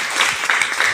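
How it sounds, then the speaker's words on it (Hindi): Audience at a business meeting in Nalasopara breaking into applause, a dense, steady wash of many hands clapping that runs through the whole second without a break. "एक बार इनके लिए जोरदार ताली।"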